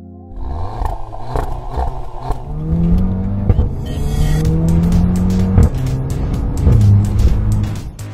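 A 2015 Audi TT with the 2-litre TFSI engine, Quattro all-wheel drive and 227 bhp pulls hard through the gears, its loud engine note rising in pitch with each shift and tyre noise audible throughout.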